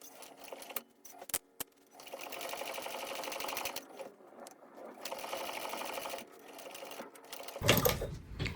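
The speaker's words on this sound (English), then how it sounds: "So let's go ahead and top stitch across." Sewing machine top stitching across a fabric bag, running in two long steady bursts of fast needle chatter with short clicks and pauses between, fairly close and alone.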